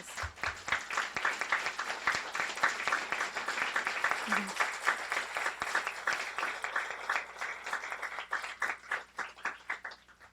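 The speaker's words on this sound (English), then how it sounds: "I'd like to give you all a round of applause." Audience applause for Guiding Eyes for the Blind volunteers at a graduation ceremony, a crowd clapping steadily and fairly close, swelling then thinning into scattered claps at the end.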